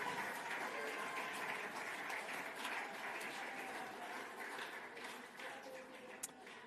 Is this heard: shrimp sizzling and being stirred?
no